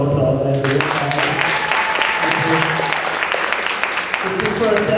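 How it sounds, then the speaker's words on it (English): Audience applause at a debate competition, a steady crowd clapping that fills the whole stretch, mixed with someone speaking over it throughout. "I wanted to give her a round of applause"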